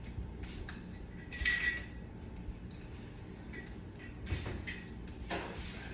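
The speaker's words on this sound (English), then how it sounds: "we'll finish cutting up our steak" A knife and fork cut through steak on a plate, quiet scraping strokes with occasional clinks of metal on dishware, close and faint, with no one talking.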